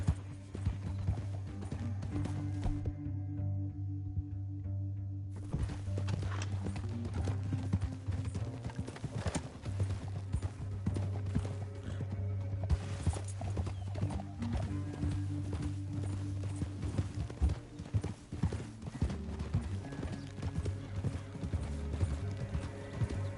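Steady clip-clop of horse hooves at a brisk pace in Red Dead Redemption 2, with occasional whinnies and creaking gear beneath a continuous dramatic musical backdrop.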